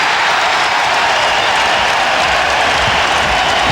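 Basketball arena crowd at a Portland Trail Blazers playoff game against the Phoenix Suns in 1999, a loud dense roar of cheering fans that holds steady throughout.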